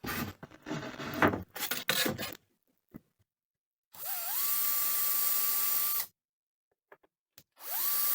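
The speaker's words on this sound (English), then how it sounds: "Got a little bit of countersink on these" A power drill countersinks screw holes in kitchen cupboard feet, sounding as short whirring bursts that rise to a steady whine and stop, separated by silences and faint handling clicks.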